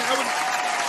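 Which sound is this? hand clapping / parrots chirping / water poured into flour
hand clapping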